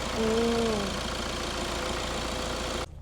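A freshly rebuilt Kia Carnival engine idles steadily after warm-up nearby with a low, even rumble and a faint tonal whine early on, then cuts off abruptly at the end.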